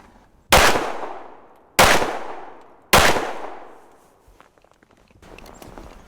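Three loud, sharp handgun shots from a Smith & Wesson M&P 2.0 Carry Comp crack at roughly one-second intervals on an outdoor range, each decaying with a ringing echo, followed by faint shuffling.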